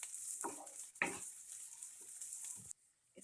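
Ingredients for egg Maggi sizzle faintly in a pan, with a few quiet stirring scrapes and soft clinks over a low, steady hiss before it briefly drops off near the end.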